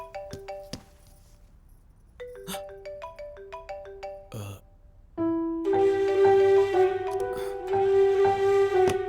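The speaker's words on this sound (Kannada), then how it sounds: "ಫೋನ್ ರಿಂಗ್ ಆಗ್ತಾ ಇದೆ ನೋಡು" A melodic phone ringtone plays in repeated tinkling phrases, then a louder, fuller ringing tune swells and continues.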